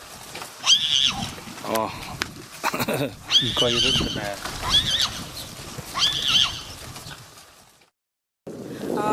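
Horses in a herd at a horse yard whinny and squeal repeatedly while fighting, loud shrill neighs in bursts with snorts and hoof sounds, a person briefly exclaiming among them before a short silence.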